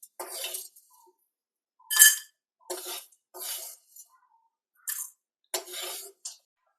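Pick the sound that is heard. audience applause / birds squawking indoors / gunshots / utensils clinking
utensils clinking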